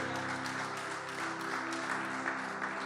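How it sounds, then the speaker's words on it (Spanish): A church congregation applauds in a steady, unbroken wash of clapping with a sustained musical tone underneath, moderately loud and even throughout, with no talking. "Tome asiento y déle un fuerte aplauso al Señor."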